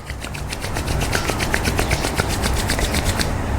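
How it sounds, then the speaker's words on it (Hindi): Two palms rub briskly together close up, a rapid, even run of dry friction strokes with no talking. "दोनों हाथों को अच्छे से रब करेंगे"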